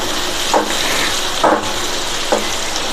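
Vegetables and chopped tomato sautéing for pasta in a pan, a steady loud sizzle with three brief stirring scrapes spaced about a second apart.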